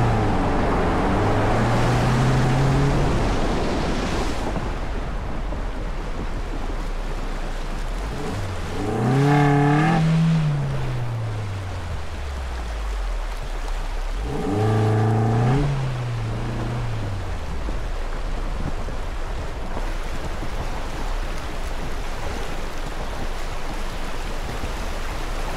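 A Suzuki Jimny 4x4 drives through a river, its engine revving up and down in three loud surges over a constant rushing wash of water.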